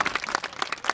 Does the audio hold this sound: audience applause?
yes